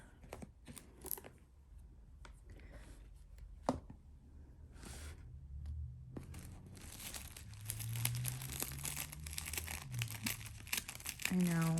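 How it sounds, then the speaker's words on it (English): Ribbon and wrapping on a Chanel Classic Flap bag box crinkle and rustle in soft bursts, with light tapping handling noises close by and a low voice murmuring underneath. "But let me move the pretty ribbon"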